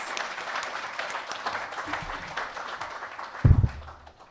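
Audience applause at a governance thought-leadership dialogue, moderate clapping from a crowd that fades toward the end, with a brief louder thump and a voice near the close.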